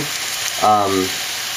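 Pork chops frying in a pan over a little-under-medium heat, a steady close sizzle with a brief louder burst of clatter partway through, no talking.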